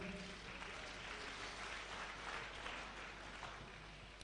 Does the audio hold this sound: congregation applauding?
yes